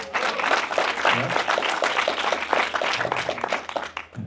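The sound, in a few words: audience applause at a book signing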